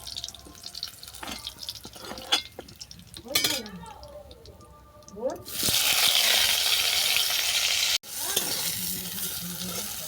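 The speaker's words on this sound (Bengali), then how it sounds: "আমি বিচকলটাকে ভেজে নেব" Seeded banana (bichkola) frying in mustard oil, with a loud, steady broadband sizzle rising midway after scattered clinks, stirring and dripping sounds; a brief break interrupts the crackle before it resumes, with some voice present.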